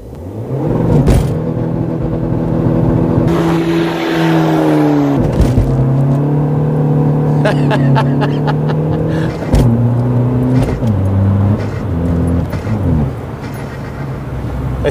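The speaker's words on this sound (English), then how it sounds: "I think what I'm going to do here is slow down and do myself a little popcorn limiter launch control now." Seat Ibiza FR with a diesel PD130 engine held on a popcorn limiter for launch control, a loud close engine drone that holds steady revs, dips, then climbs again, with sharp pops and crackles breaking in and no talking.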